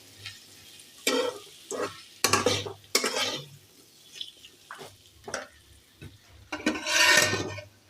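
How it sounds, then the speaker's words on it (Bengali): Potatoes frying with onion stalks in a pan are stirred with a metal utensil, giving irregular scraping strokes and clinks over a faint, steady sizzle, close by. "পেঁয়াজ কলি আলু ভাজা"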